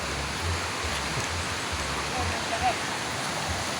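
Flowing river stream making a continuous broadband rushing wash, fairly soft and steady, with faint low rumbles underneath.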